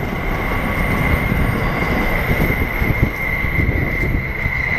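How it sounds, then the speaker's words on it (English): A train rumbles past in the background, a steady continuous roar of wheels on rails with a faint high squeal running throughout, loud and unbroken for the whole stretch. "Sorry about the train noise in the background."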